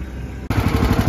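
A lawn mower with a brand-new engine fires up after a short pause and runs with a rapid, loud, pulsing chug heard up close, with no voices over it.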